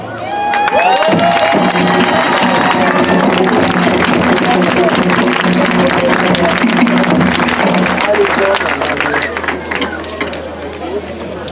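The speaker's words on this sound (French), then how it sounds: "je vous demande encore de les applaudir" A festival crowd applauds and cheers at the official opening of the Heiva 2023 festival, sustained and loud, with a voice speaking over the clapping and cheering.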